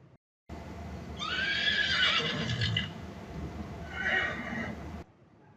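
A horse whinnies as a sound effect in a read children's story: one long, loud, shrill neigh, then a shorter second call, with faint clip-clop beneath, and no talking.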